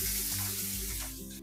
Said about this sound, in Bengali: রসুনটাকে লাল লাল করে ভেজে নেব।